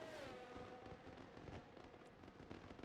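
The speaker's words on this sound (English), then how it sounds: "As I hear fireworks going off" Fireworks bursting during a Singapore race in a racing video game, a dense crackling and popping spread through the whole stretch over engine and crowd ambience, fairly steady with scattered sharper bangs.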